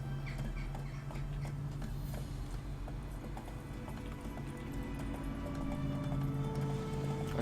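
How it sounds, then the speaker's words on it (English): Horse hooves clip-clop steadily during riding in The Witcher 3: Wild Hunt, a regular rhythmic trot of clear hoof strikes over a low ambient game hum, with no voices. "When you're riding a horse, if you just press forward, you'll go forward."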